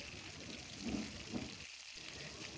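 Fish sizzling in hot oil in a wok, a steady soft crackle with a couple of slightly louder bursts, fairly faint with no talking.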